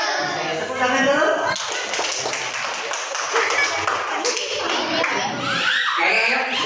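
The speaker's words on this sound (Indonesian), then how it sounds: "tepuk tangan dulu" A classroom of children claps together, a burst of close clapping breaking out after a voice and continuing for several seconds, with children's voices mixed in.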